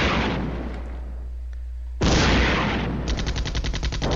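Tank and artillery fire in a Cold War battle strategy game, heavy booming blasts with long rumbling tails, one big shot followed by another loud boom and a rapid rattle of smaller fire at the end.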